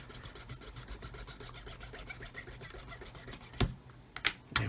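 A blade rasps steadily through a plastic part of a 1/35 Hobby Boss Defender SWB model kit, a fast scratchy rubbing up close, ending with a few sharper clicks and knocks.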